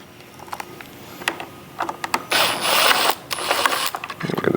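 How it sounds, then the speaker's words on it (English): Screws backed out of the rear of a casement window lock body, giving a run of short mechanical clicks and ratcheting ticks with a denser, steadier stretch of turning in the middle, close and fairly quiet. "Then we'll remove these 2 screws from the back side of the lock body."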